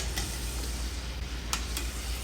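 Soft, steady sizzling of yam frying in very hot oil, with a few faint clicks of stirring, quiet and continuous.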